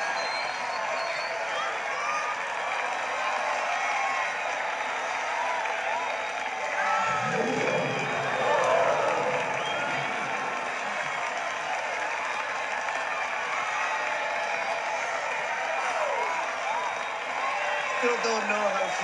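Studio audience applause in a musical TV episode, a steady wash of clapping and crowd noise lasting throughout, with people talking over it.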